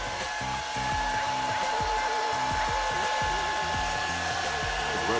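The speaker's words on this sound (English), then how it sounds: "your boy went on got a blow dryer" A blow dryer runs steadily while heating a Nike SB Dunk sneaker's toe box, a continuous close, loud whirring hiss with a steady tone, while a low, stepped music-like pattern plays underneath throughout.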